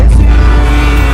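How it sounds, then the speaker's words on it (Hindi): Outdoor road traffic with cars driving past, heard as a loud, close, continuous low rumble of engines and tyres over a short stretch. "बाहर गाड़ियाँ चल रही है तो ट्रैफिक की आवाज आ रही है"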